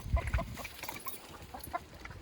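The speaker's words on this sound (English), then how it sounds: "come and meet a chicken" Faint chicken clucks and soft squawks come through quietly at a farm, with low background rustling and thumps underneath, and there is no speech.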